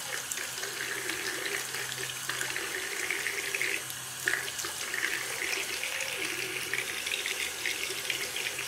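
Tap water runs steadily into a sink while makeup brushes are rinsed beneath it, a continuous close splashing hiss with small shifts as the brushes move through the stream.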